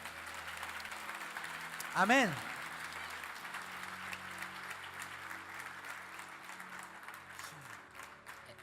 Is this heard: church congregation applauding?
yes